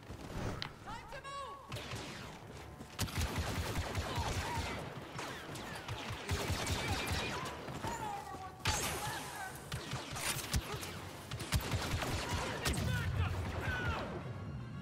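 Blaster gunfire and explosions in a Star Wars Battlefront II campaign battle, with rapid bursts and heavy booms over continuous combat noise and voices of game characters and a player talking.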